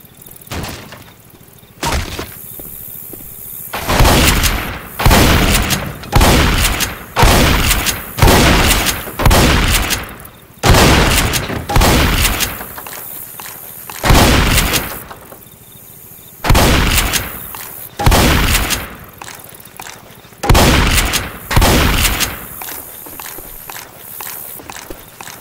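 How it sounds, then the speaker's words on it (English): Loud, evenly spaced shotgun blasts in Left 4 Dead 2, a dozen or more heavy booming shots in a steady rhythm with brief pauses between, close and dominant, alone without talk. "Shotgun."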